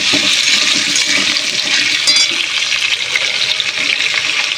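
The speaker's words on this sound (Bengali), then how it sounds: "তাহলে পেঁয়াজটা দিয়ে একটু ভাজা করে নিই" Chunks of onion and potato fry in hot oil, producing a loud, continuous sizzling hiss with stirring, close and uninterrupted.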